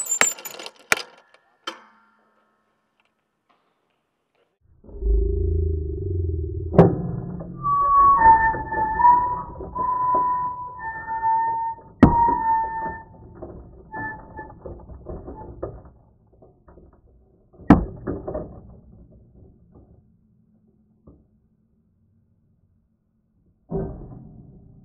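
A disc golf throwing machine built at RIT launches a yellow disc at a 15-degree angle: a brief whirring mechanical spin-up, then a sharp clack and rattling as the disc releases, followed by a few isolated clicks.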